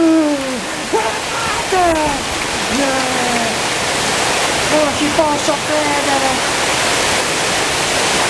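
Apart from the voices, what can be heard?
hailstorm in Quartu, hail falling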